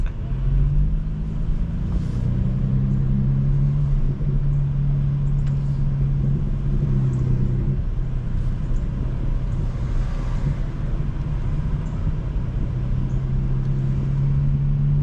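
A 2025 BMW M4 Competition driven slowly on a low-speed street, its engine a steady, deep, low rumble throughout, close and even with no sharp revs.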